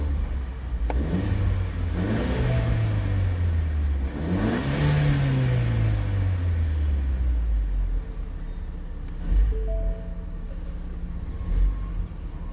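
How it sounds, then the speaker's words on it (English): A 2022 Ford Explorer XLT with its 2.3-liter EcoBoost turbo four-cylinder revving in two strong rises and falls, then idling with small blips, loud and close with no talking. "we'll give it a few revs"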